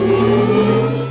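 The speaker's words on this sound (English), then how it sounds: "These are elements of the Audi R8 e-tron sound" Synthetic engine sound for the Audi R8 e-tron electric car, triggered by a fully depressed gas pedal: a loud, sustained, harmonically rich mechanical whir and hum with steady tonal bands, heard alone.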